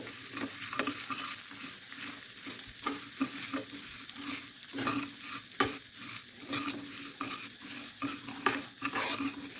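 Sugar syrup is stirred steadily in a kadhai with a soft bubbling sizzle underneath, while repeated scraping strokes of the utensil against the pan come at a regular rhythm, fairly quiet and close.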